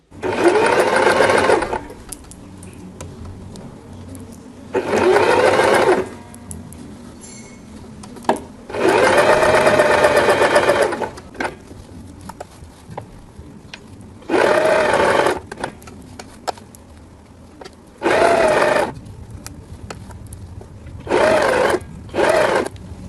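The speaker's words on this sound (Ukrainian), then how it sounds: "з'єдную зрізи і продовжую строчку" A sewing machine stitches fabric for a hair scrunchie, running loudly and close in several whirring bursts of a few seconds each, separated by quiet pauses.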